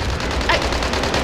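Shotgun fire in a tactical shooter game, a dense burst of loud broadband blasts running continuously over the clip with a brief brighter crack near the middle.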